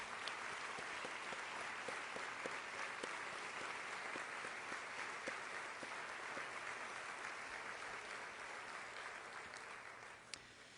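An audience applauds the Board of Education at a State of Schools event, sustained even clapping heard from a distance throughout, with no talking, tapering slightly near the end.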